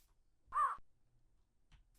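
A single raven caw from Minecraft with the SevTech modpack, one loud harsh call lasting under a second, followed by quiet ambience and a faint low thump near the end.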